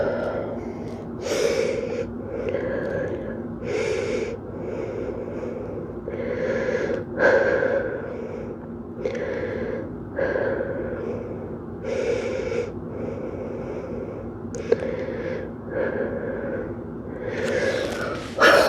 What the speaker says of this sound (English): Let ourselves breathe, get a couple deep breaths.